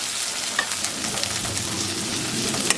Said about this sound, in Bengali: চিংড়ি মাছগুলো সবার আগে ভেজে নেব